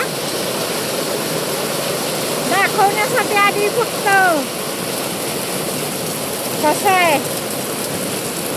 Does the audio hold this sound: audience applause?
no